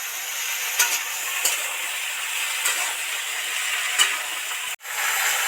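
Mixed vegetables fry in a pan with a sprinkle of salt, giving a continuous close sizzle with occasional scraping stirs and a brief break near the end, no voices.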